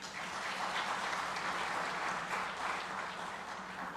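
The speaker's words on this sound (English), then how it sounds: "I invite you all to join me in giving them a well-deserved round of" A conference audience at an international Commonwealth peace mediation event in Rajasthan applauds, a dense, even wash of many hands clapping that holds steady throughout.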